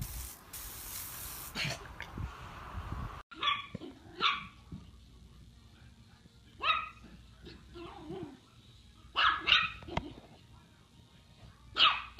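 A dog barks in short, sharp bursts while playing with spraying water, the hiss of the spray loud at first, then several spaced barks and whimpers nearby.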